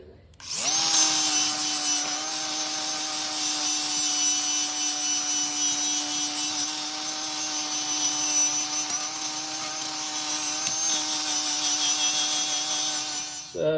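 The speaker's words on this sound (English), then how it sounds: "I'm going to use the angle grinder with wire wheel on it to go over all the rust" An angle grinder fitted with a wire wheel scrubs rust off a 50cc mini bike exhaust, a loud continuous high whine with harsh abrasive scratching, holding steady for the whole stretch with a brief dip near the end.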